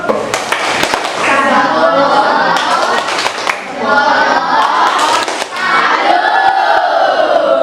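A school class cheers and performs a group salute for group 1, with loud rhythmic chanting and clapping from many children throughout, broken by a couple of brief dips before the cheering resumes.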